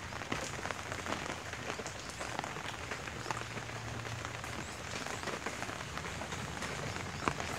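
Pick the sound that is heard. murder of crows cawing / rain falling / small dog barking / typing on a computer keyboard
rain falling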